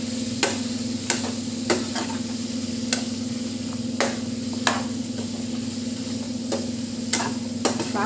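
Chicken sizzles steadily in oil with Chettinadu masala as a spoon stirs it every second or so, the frying a constant close hiss with sharp scraping stirs on top.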